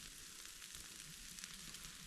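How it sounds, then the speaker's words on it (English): Steak sizzles in frying pans over an outdoor campfire, a steady, close crackling hiss that continues without pause and without any voices. "Steak and pasta on the fire tonight."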